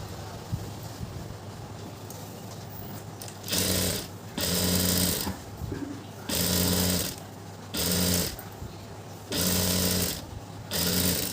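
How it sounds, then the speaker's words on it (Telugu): Sewing machine stitching a seam in a pair of pants, loud close bursts of rapid mechanical chatter in five runs of about a second each, separated by quieter pauses with low background hum. "ఇలా జాయింట్ చేసేసుకుని దీనికి పైన కుట్టేసుకుంటే అణిగి ఉంటుంది"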